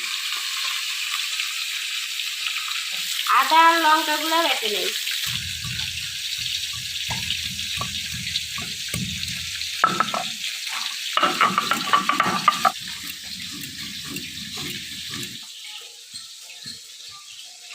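Fish frying in a kadai for a village-style fish curry gives a steady, close sizzle throughout, with stirring and utensil scrapes in the middle and a voice speaking briefly.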